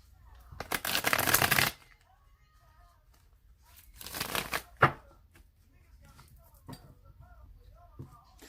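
A tarot deck shuffled close to the microphone: a long loud riffle, then a second burst and a sharp snap, followed by faint card taps.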